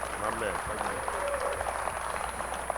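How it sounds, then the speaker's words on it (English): An audience applauds for the leader of the Aggies, the HBCU national champions, at an event; steady clapping runs under a speaking voice. "Round of applause for the leader of the Aggies"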